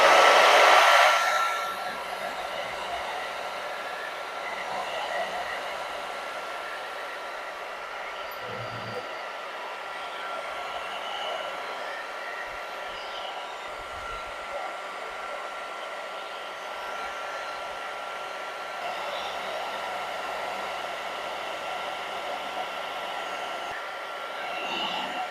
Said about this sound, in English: my next step here is to kind of use the hair dryer